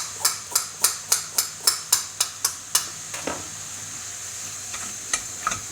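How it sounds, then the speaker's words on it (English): Ground meat and mushrooms sizzle in a pan while a spoon scrapes and taps the pan about ten times in a quick, regular rhythm before easing into a softer, steady frying hiss with occasional taps. "Keep stirring, especially the meat, till it's all nice and brown"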